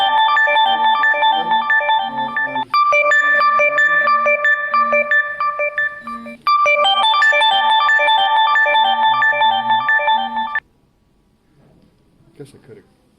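A phone ringtone plays a loud, steady electronic melody for about ten seconds, briefly cutting out twice, then stops and leaves near silence. The setting is a biology lecture on protists.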